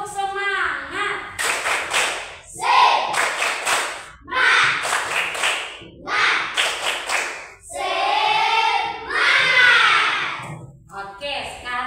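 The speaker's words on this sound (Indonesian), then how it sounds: "Tepuk semangat." A class of schoolchildren performing a rhythmic spirit clap, bursts of patterned clapping mixed with chanting voices, loud and close, each group of claps followed by a short pause.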